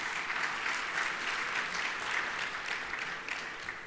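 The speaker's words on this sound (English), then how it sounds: "Let us have a big round of applause for our Honorable President." Sustained audience applause for the president at a chartered accountants' gathering: dense, steady clapping from a large crowd that holds at an even level throughout, with no talk over it.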